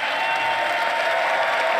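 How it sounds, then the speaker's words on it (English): Steady, dense applause and cheering from a large chamber audience of Republican lawmakers at a State of the Union address, continuous and loud with no pause. "Now, Republicans sort of sarcastically cheering"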